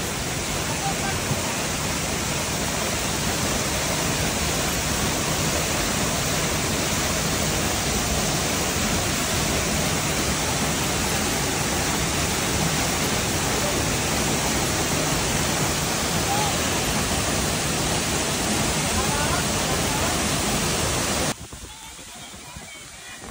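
A waterfall in Bukidnon roars as a loud, steady broadband rush of falling water that fills nearly the whole span, then drops off sharply near the end.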